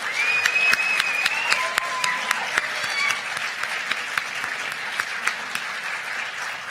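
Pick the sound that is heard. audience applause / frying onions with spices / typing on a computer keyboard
audience applause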